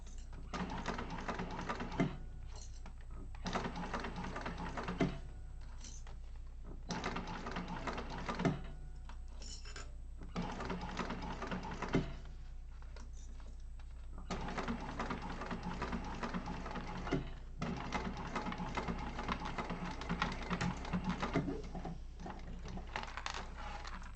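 A sewing machine top stitches a Yoshi Sling bag in quiet bursts of rapid whirring, broken by short pauses as the fabric is adjusted.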